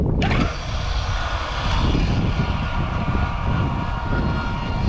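A Traxxas Spartan RC boat on a 6S setup runs at half throttle on a pond, its motor and propeller giving a loud, steady, high-pitched whine that holds without a break from start to finish.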